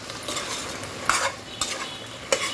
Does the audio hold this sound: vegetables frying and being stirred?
yes